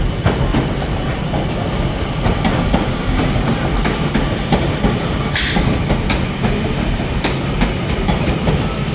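A Northern Class 331 electric train runs through Manchester Piccadilly with a loud, steady rumble and rhythmic clatter of wheels over rail joints, punctuated by a brief hiss partway through.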